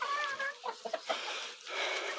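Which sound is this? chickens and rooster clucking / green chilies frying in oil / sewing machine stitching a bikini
chickens and rooster clucking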